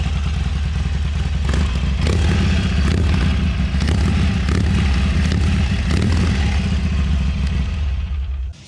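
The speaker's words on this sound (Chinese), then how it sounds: "我再站远一点，应该可以感受到那个声浪吧？ 超美妙的声音。" A Harley-Davidson 48 motorcycle with a modified exhaust idles and is blipped in an open area, producing a steady, loud, low, rumbling engine note with lumpy pulses and a few sharp clattering rev bursts.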